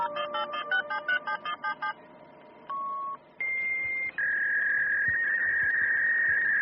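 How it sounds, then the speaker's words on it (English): Telephone dialing tones: a quick series of short touch-tone beeps followed by longer sustained tones that shift in pitch, ending in a steady high electronic whine, clear and close. "Dialing."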